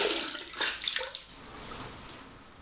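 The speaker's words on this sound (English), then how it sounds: "Now I will wash off and see what the damage is like." Running tap water splashes into a sink as a face is rinsed after a shave, a close, brief rushing gush that fades to a softer trickle.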